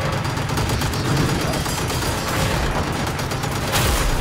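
Turret gunfire in the video game Generation Zero, a loud dense barrage of rapid shots rattling continuously with heavy booming low end, no pause across the burst.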